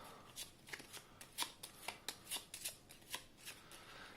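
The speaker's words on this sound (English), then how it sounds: "We're going to shuffle these 5 goal cards." A small stack of five game goal cards being shuffled by hand, a quick steady series of soft riffling flicks and papery slaps, close and quiet, with no talking.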